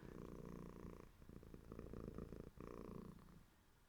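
A cat's purr in the cosy video game Blanket Cat: a close, rumbling, continuous purr with a pulsing texture and a brief break midway, alone without voices.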